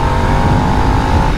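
A 2022 Harley-Davidson Nightster 975 motorcycle rides in third gear, its engine a loud, steady, close drone that holds one even pitch for the whole short stretch.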